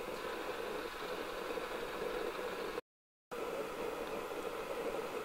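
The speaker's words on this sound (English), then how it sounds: "Got a nice turbo fire going in there right now." Roaring fire inside a homemade 12 volt pellet stove produces a steady, dense rushing roar like a rocket, constant in level apart from a brief silent gap midway.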